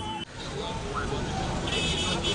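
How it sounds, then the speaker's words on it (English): Busy road traffic of cars, buses and motorcycles rumbles at the Badagry roundabout, Nigeria, with engines, passing vehicles and a brief horn toot, and a voice talking over the steady din. "with cars, buses, and motorcycles navigating through the intersection"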